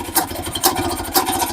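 An old motorcycle engine idles in a steady, low putter with regular pulsing beats and a few louder surges, close and without talk.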